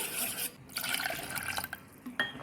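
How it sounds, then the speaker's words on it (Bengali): Three cups of water pour into a bowl of homemade sour yogurt, a close, splashy gush of liquid with gurgling and a few dripping and glassy clinks in between, no talking. "তিন কাপ জল দিয়ে দিলাম জলের সাথে টক দইটা খুব ভালো করে মিশিয়ে নেব"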